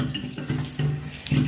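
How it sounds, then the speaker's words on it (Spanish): Water leaking and spraying from a shower valve under repair, a steady hiss of running water with a few surges in strength, close and fairly loud with no talking. "está tirando agua y se está yendo"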